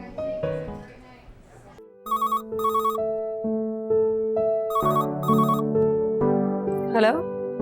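A telephone ringing in repeated short double bursts over music, with voices talking underneath.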